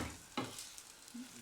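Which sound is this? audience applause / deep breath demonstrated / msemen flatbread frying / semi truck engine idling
msemen flatbread frying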